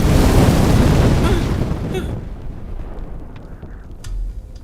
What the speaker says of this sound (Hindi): किसी ने भी ध्यान दिया कि यहाँ इतना बड़ा बम फटा?